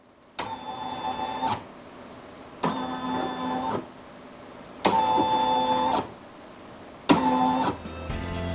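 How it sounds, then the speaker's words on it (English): A single-needle embroidery machine moves its frame through the trace routine, giving four separate whirring motor runs of about a second each with short quiet gaps between them. "I'm going to use the trace feature on my machine"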